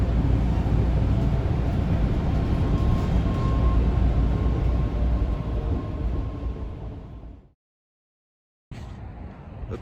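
Subway train heading toward Harvard Square rumbles loudly and steadily with a constant droning roar, fading away to near silence, then a short burst of noise returns.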